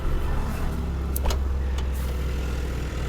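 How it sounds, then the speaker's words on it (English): A 2001 Chevy Lumina engine idles steadily while warming up, a loud, close, continuous rumble with a brief faint knock partway through. "Just give her a little bit of gas, let her warm up a little."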